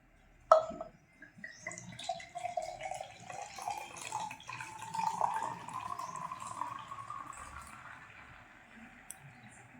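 Sweet beer glugs and fizzes into a glass, a clear pouring stream that swells for several seconds and then tapers off as the glass fills.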